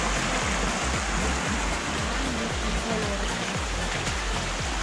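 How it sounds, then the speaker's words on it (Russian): Water flows steadily at David waterfall near the Dead Sea, a constant broadband rush of falling and streaming water, loud and unbroken throughout. "А вот еще есть водичка."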